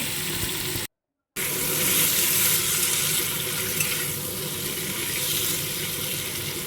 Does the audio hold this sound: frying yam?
yes